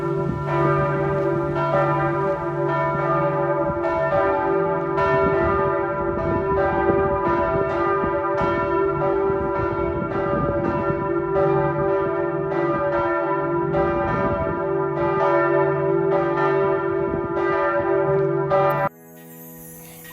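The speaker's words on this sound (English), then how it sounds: "Other than listening to the choir of bells" Church bells peal in continuous overlapping strikes at Iceland's landmark church, a rich ringing chorus that carries for about twenty seconds and then cuts off abruptly.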